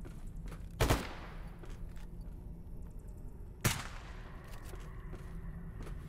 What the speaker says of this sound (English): I'm shooting him because he ran in front of me while I'm shooting.